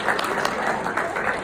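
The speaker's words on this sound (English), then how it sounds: "Give them a round of applause." A brief burst of steady applause from a crowd, many hands clapping at once.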